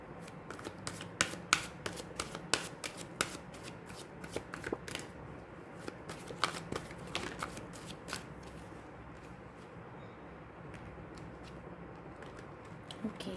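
Tarot cards shuffled repeatedly by hand, a fast riffle of crisp papery clicks and flutters that come close and fairly loud in bursts, then thin out into quieter, sparse taps over a low room hum.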